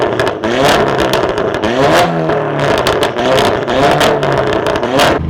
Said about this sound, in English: I'll give it some revs and I'll show you how it sounds in launch as well.